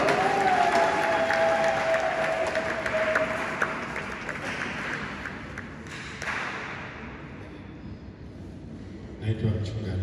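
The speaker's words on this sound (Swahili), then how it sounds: "makofi mengi kwa ajili yao" A church congregation at a joint ecumenical mass applauds at moderate loudness for several seconds; the clapping gradually thins and fades, with a faint tonal ring early on and a brief thump near the end.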